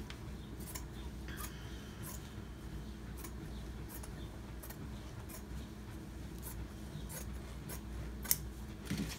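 Scissors cut cloth along the fold for a cloth face mask, making a string of close, sharp snips at an uneven rhythm over a quiet, low background hum, with no talking.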